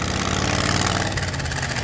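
Munsters Drag-U-La coffin car engine running all ten one-barrel carburetors through baffled pipes, a loud, dense, rumbling idle, close and steady with no talk.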